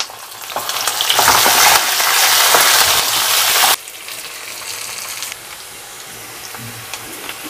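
A large chopped onion with green chilies and curry leaves sizzles loudly in a pan for wheat rava khichdi, the hiss surging with stirring before abruptly dropping to a quieter, steady fry.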